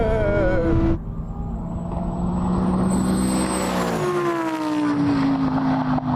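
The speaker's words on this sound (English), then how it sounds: "The RS6 takes full advantage and pulls ahead immediately." An 840 hp Audi RS6 and a Lamborghini Huracan Performante launching in a drag race: loud engine revving, then rising and sweeping engine tones as the cars accelerate away, sustained and close.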